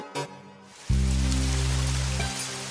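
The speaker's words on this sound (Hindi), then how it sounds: "देखो आज बारिश कितनी तेज हो रही है।" Heavy rain comes down as a dense, loud, continuous hiss that sets in abruptly and stays steady throughout, along with a low rumbling layer beneath it.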